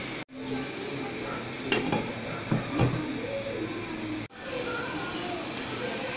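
Mango pieces are stirred in oil in a pan for mango pickle, with a few sharp utensil clinks and scrapes over a steady low sizzle; a voice is faintly present.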